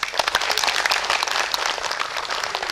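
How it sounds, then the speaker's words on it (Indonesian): A crowd audience at an evening community empowerment event in Kendal breaks into loud, sustained applause, dense overlapping claps throughout with a faint voice in the background. "sekali lagi kita beri tepuk tangan"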